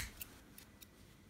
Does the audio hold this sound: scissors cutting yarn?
yes